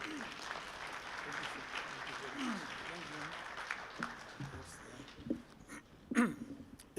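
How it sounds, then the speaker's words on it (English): Audience members at a Zimbabwe labour and employment summit stand and applaud as a government minister arrives; a broad, sustained patter of clapping fills the hall, with a few louder claps and voices near the end. "please stand up and let's welcome the Minister, Comrade Edgar Moyo. Let's clap your hands for him."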